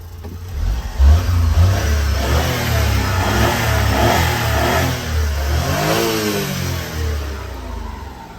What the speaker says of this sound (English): here's how it sounds. I'll give it a couple revs.